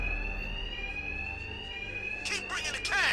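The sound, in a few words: alarm ringing in the video game Batman: Arkham Knight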